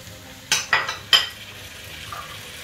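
Potatoes and cluster beans go into a cooking pot for a mutton vegetable dish, giving three or four quick clattering thumps and scrapes close by, followed by a low, faint simmering hiss.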